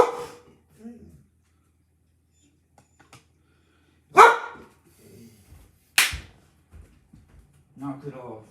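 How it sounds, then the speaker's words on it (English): A pet guard dog barks indoors in a few sharp, separated bursts, loud and near, between stretches of quiet, with a voice speaking briefly at the start and end. "Freaking guard dog, I swear."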